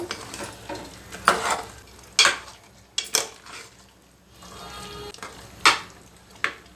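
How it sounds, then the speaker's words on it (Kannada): A ladle scrapes and knocks against a pressure cooker while finely ground curry paste for a mutton curry is stirred, producing irregular metallic clanks and scrapes with quieter sizzling between the strokes. "ನೋಡಿ ಎಲ್ಲ ಚೆನ್ನಾಗಿ ಮಿಕ್ಸ್ ಮಾಡಬೇಕು"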